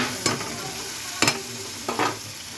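Masala sautéing with a splash of water in a pan, three sharp stirring scrapes and sizzling bursts over a low steady simmer, close and fairly quiet.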